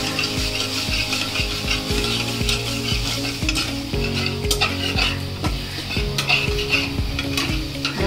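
Spices being sautéed for a fish curry of hilsa and pomfret, a steady close sizzle and fry with a metal spatula scraping and stirring the pan in repeated strokes, no talk.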